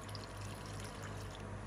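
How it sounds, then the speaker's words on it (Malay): Coffee is poured into a glass already holding ice, sugar syrup and evaporated milk for a three-layer drink, making a soft, continuous liquid stream that is quiet and close, with no voices. "Seterusnya, masukkan air kopi."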